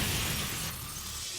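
A glass windscreen shatters in one loud, dense burst of breaking glass that fills the clip, then thins slightly toward the end, with no voices.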